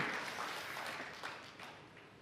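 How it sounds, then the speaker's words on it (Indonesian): A church congregation claps in a short burst of dense applause that fades slightly toward the end. "Tepuk tangan buat Tuhan Yesus"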